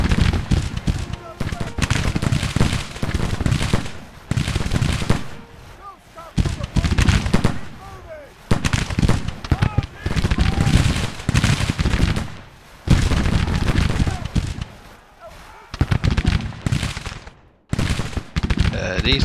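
Civil War infantry volleys and artillery in the Grand Tactician strategy game, rolling bursts of musket fire and booms repeating in waves across the battlefield, dense and continuous with brief lulls, and a voice talking over them.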